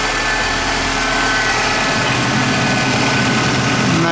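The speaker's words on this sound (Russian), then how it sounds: "Пускай на холостых работает." A VW Passat B3 engine idles loudly up close with a steady, slightly rough vibrating hum, its pitch dropping a little as the pedal is released and it settles while warming up with an overheating problem.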